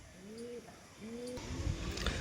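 A pair of old flying home pigeons coos twice, each a soft, low, drawn-out call with a gentle downward bend, close by and alone, followed by a brief burst of rustling noise.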